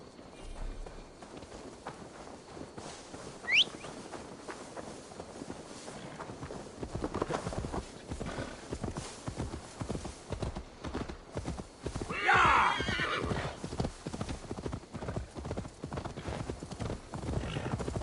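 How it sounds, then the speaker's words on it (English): Horse hooves clip-clop steadily in Assassin's Creed Valhalla gameplay, with a short neigh or whinny partway through, all set against a continuous background of wind and ambient game sound. "Now to deliver Magni his horse."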